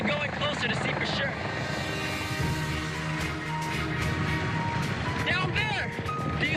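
A helicopter flies over the sea near an oil platform, its rotor and engine drone steady underneath while people speak over it.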